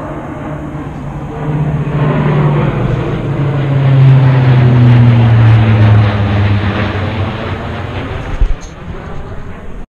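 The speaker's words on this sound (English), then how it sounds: "There's this random plane just flying around here." A propeller plane drones overhead, its steady low hum swelling to a peak midway and then easing off as it passes, fairly loud with no talking.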